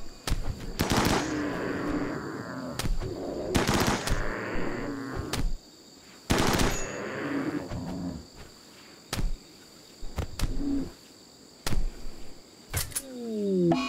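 Gunfire and shotgun blasts from the RimWorld video game, loud repeated shot bursts with short gaps and insect-like chirping in the background.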